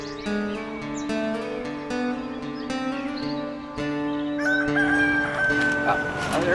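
A rooster crows loudly and close by, a long rising cry with harmonic tones, while other fowl cluck and call in the background.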